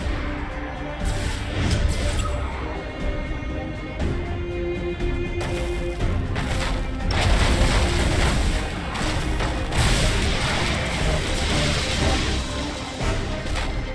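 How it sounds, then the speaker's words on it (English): Space mines detonating in the Battlefleet Gothic Armada 2 game, a dense continuous roar of overlapping explosions and rumbling crashes, loud and sustained throughout with no pause. "That explosion should clean our tails of these traitors."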